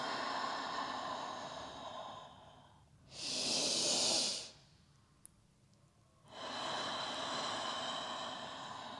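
A slow, drawn-out exhale during a vinyasa yoga class, breathy and close, rising into one long hiss-like breath between quieter stretches of soft room tone, with no talking.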